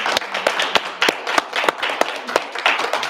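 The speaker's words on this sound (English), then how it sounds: "So join me in giving this panel a round of applause." An audience applauds a panel at an education event with quick, scattered hand claps, sparse and uneven rather than a full ovation, heard fairly close and with no talking.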